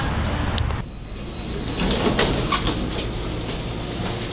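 An Otis Series 1 elevator door at a Best Western hotel slides along its track: a steady rumbling glide with a faint clunk midway, close by and fairly loud.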